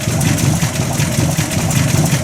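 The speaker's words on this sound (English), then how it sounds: "I've got the transmission spinning around there a little bit" A Buick Roadmaster engine runs steadily in drive with the transmission turning, a continuous low idle drone with a faint mechanical whir, close and uninterrupted.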